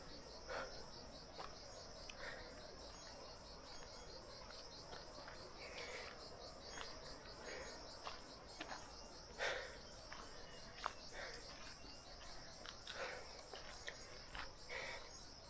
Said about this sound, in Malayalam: പിന്നെ ഈ ചീവീടുകളുടെ ശബ്ദം മാത്രമേ ഉള്ളൂ.